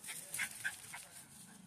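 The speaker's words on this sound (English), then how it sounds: "That's our neighbor's dog right there." A neighbor's dog barks outdoors, a few short, faint, distant barks within a brief moment.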